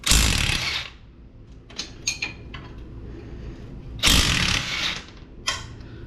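A wrench and socket click and ratchet on a Gen 2 Chevy Cruze coilover bolt, with a few short bursts of close metallic ratcheting separated by quieter pauses and small clinks.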